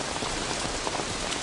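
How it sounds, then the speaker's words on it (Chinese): Steady rainfall pattering on surfaces outdoors, a dense even hiss of drops with no talk, fairly close and constant. "又下雨了， 下雨多好啊！"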